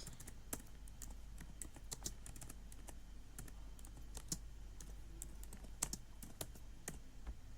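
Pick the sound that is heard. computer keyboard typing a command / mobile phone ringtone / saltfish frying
computer keyboard typing a command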